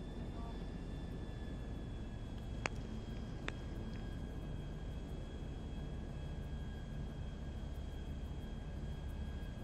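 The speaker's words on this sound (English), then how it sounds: "Hold on, this is gonna be a tough takeoff." A steady aircraft engine drone fills the background as the plane takes off, loud and constant without a clear rise, with a couple of brief sharp clicks and faint voices mixed in.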